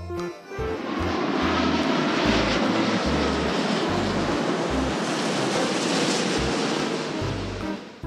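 A loud, steady roar of an airplane engine fills the whole clip, broad and continuous like a jet passing close overhead, with no voices.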